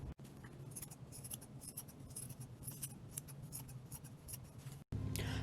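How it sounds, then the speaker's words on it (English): Scissors snipping fabric scraps into small pieces for cushion stuffing, a quick irregular run of close, crisp cuts and rustles repeating steadily throughout. "now I'm going to take my scissors and cut all this up really small"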